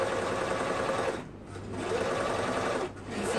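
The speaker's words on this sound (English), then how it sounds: "So I'm gonna try and sew this around without getting too twisted." A sewing machine stitches the seams of mesh boys' shorts, running in a steady continuous whir that briefly slows twice before picking back up, close and loud with no talking.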